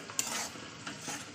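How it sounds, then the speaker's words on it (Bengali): Curry spices being stirred and fried down in oil, a spoon scraping the pan in slow strokes over a faint sizzle, close by, with one brief clink early on and no voices. "তো কষাতে কষাতে মশলা থেকে তেল ছেড়ে আসবে।"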